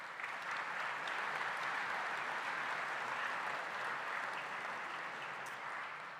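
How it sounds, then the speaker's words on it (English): An audience at an evening sponsor event bursts into steady, full applause that holds even and dense for several seconds, then begins to thin slightly near the end. "Round of applause for them."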